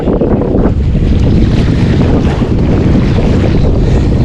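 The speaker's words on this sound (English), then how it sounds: "The waves are getting bigger too." Ocean waves roll and wash around a kayak fishing off the Oregon coast, a loud, steady rush blended with heavy wind buffeting the microphone and no voices.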